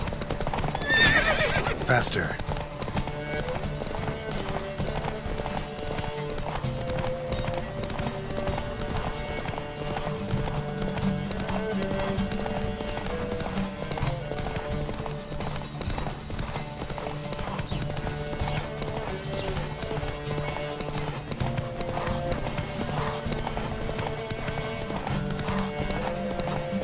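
Horse hooves clip-clop at a fast gallop during a riding race in The Witcher 3, steady rhythmic hoofbeats with occasional whinnies over game music, while a voice calls out briefly.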